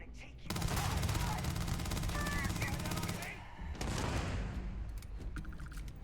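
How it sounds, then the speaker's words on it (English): A boost pack explosion in the Starfield video game: a sustained, loud burst of crackling blasts and rapid gunfire-like bangs, then a short lull and a further rumbling round, with game effects chiming over it. "Boost pack blew up right in my face."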